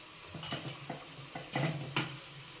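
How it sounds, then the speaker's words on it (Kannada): Bajji fritters fry in hot oil in a home kitchen, a faint sizzle punctuated by several light clinks and taps of a utensil stirring the pan, quiet and close, with no talking. "ಸೊ ನೋಡ್ತಾ ಇರ್ಬೋದು ಬಜ್ಜಿ ಹೇಗೆ ಬೇಯ್ತಾ ಇದೆ ಅಂತ."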